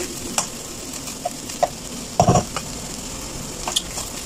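Food being stirred and mixed with melted butter in a pan, close spatula scrapes and taps over a soft continuous sizzle, with no talking.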